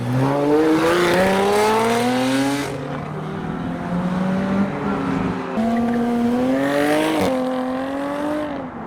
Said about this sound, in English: On a gentle cruise down the road in the 450 SLC.